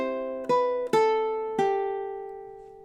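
Three plucked ukulele notes from the Star Wars melody ring out one after another, bright and close, the last one sustaining and slowly fading.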